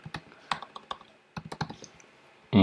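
Keys on a computer keyboard clack in an uneven burst of quick taps, some grouped closely and others spaced out, near and crisp, ending in a sudden louder noise.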